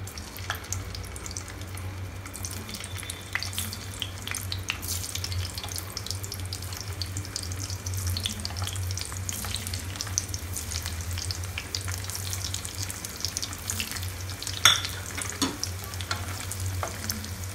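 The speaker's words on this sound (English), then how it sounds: "Our oil is nicely heated up, so we are going to fry the boiled potatoes" Boiled potatoes frying in heated oil in a home kitchen, a steady close sizzle and crackle with occasional sharper pops and faint stirring clinks throughout.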